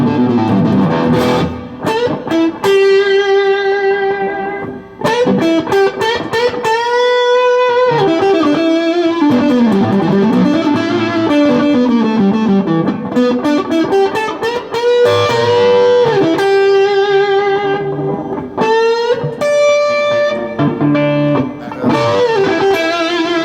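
Distorted electric guitar on the bridge pickup with the volume knob rolled back slightly, played through a high-gain amp channel with a touch of reverb; sustained chords and single-note lines ring loudly and continuously, alone without talk.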